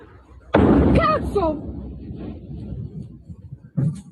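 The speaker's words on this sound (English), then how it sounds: "Large explosion rips through Italian munitions factory." A large blast at an Italian munitions factory erupts as one loud, sudden boom. The rumble decays and a voice is heard over the tail, then a second, smaller burst follows near the end.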